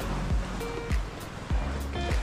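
High-tide sea waves on Cebu's south coast, surf washing in rhythmic surges with a soft roar, close by and steady.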